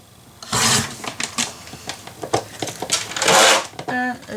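A sheet of paper being cut to size gives a series of uneven crisp snips and rustling slices, close up, with a few bursts of faint handling noise.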